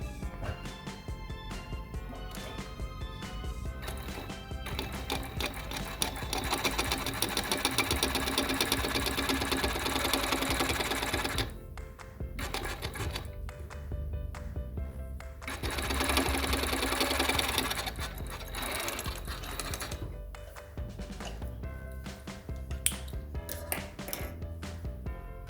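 A sewing machine with an overlocker-style lower looper stitches along a fabric edge, running in long fast rattling bursts with short stops and restarts, loud and close, with no talking.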